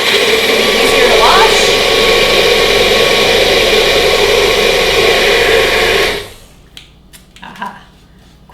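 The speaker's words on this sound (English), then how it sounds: "I'm rinsing out what was already in the blender so it's easier to" Blender whirring to rinse leftover chai, a loud, steady motor roar held for about six seconds before it cuts off, followed by faint clinks and handling.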